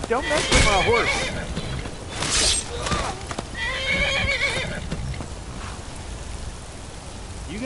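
In a PS4 video game, a horse whinnies loudly several times over clip-clopping hooves and a patter of rain.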